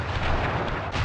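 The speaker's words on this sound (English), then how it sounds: "I will send you to your doom with the beauty of my new firework technique, Flame Foo." A firework attack explosion from the Sly Raccoon video game: a dense, loud, sustained blast with booming low end and crackling noise, rumbling steadily for about a second with no talk.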